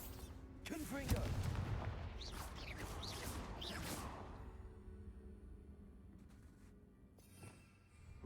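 Confringo fire spell blasts in Hogwarts Legacy gameplay: a cluster of whooshing, crackling bursts in the first few seconds that tails off into quieter game ambience, with a fainter hit near the end.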